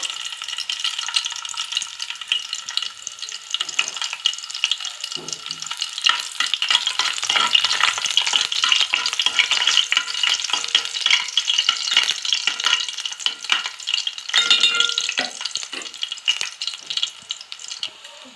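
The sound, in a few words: frying garlic in hot oil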